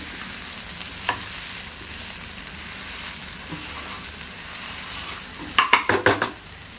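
Potato bhaji for puri fries quietly in a pan, then a quick burst of rhythmic spatula scrapes sounds up close as it is mixed.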